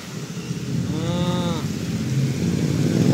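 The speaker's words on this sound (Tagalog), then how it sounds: "Grabing lakas ng ulan. Biglang buhos" A heavy, sudden downpour of rain hisses steadily outside an MRT station in Commonwealth, with traffic noise and a passing vehicle mixed in, the rain's wash growing slightly louder toward the end.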